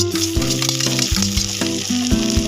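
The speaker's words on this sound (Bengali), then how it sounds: "কড়াইয়ের মধ্যে রসুন কুচি হালকা লাল হয়ে যাওয়ার সাথে সাথে আমরা এটির মধ্যে দিয়ে দেবো কেটে রাখা লঙ্কা কুচি" Chopped green chillies and garlic sizzle loudly in hot oil in a wok, with steady frying hiss and repeated clinks of a spatula stirring, up close with no talk.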